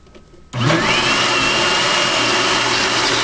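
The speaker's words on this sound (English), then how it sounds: "So we're going to turn it on and let the fat accumulate and churn on itself" A high-speed blender whirs on suddenly and runs loud and steady, a continuous motor roar churning cream into butter, with no voices over it.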